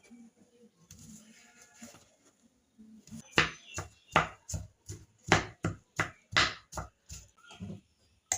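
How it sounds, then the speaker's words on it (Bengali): A knife chops through an unpeeled apple in a regular run of about fourteen crisp strikes, following a few seconds of quiet handling. "তো প্রথমে আমি আপেলটাকে কেটে নেব"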